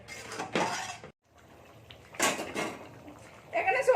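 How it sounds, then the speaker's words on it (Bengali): A lid is set onto a cooking pot of potato and pea curry, giving a few sharp metallic clanks and clatters spread across the moment, with quieter kitchen handling noise in between. "এবার আমি ঢাকা দিয়ে দেবো এটার মধ্যে"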